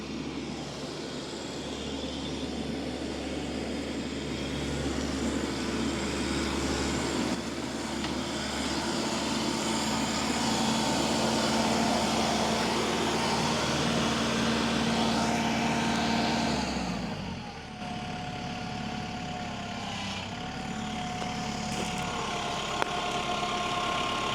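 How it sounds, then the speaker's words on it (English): A steady tractor engine drones on for a long stretch while moving dirt and wood, its pitch shifting as it revs and then drops back to a lower idle. "And here comes Jill wide open with my tractor"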